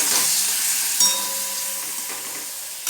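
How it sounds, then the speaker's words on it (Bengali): Spices with salt, turmeric and a splash of water sizzle loudly as they sauté in a pan, a continuous close hiss with a couple of brief stirring scrapes. "অল্প সামান্য একটু জল দিয়ে ভালো করে কষিয়ে নিচ্ছি।"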